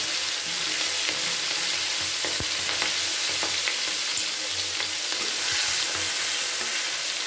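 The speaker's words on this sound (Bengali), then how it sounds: "আমি চিংড়ি মাছটাকে ভেজে নিচ্ছি ওর মধ্যে।" Shell-on prawns fry in hot oil with a steady, dense sizzle and crackle, broken by a few sharper pops and the occasional stir. There is no talking.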